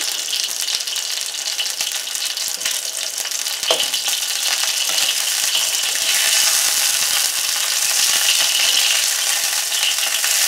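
Hot oil frying chicken soup ingredients with instant noodles, a loud steady sizzle and crackle filling the whole stretch, with a brief clatter of stirring near the middle and no talk.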